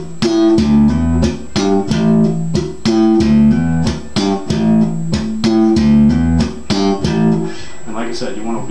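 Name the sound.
slap bass with hammer-ons and muting with different string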